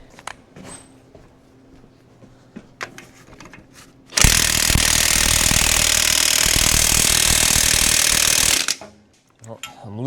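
Loud, continuous burst of a power impact wrench removing bolts while splitting a John Deere 4020 tractor, running steadily for about four seconds, with quieter shop clatter and brief talk before and after.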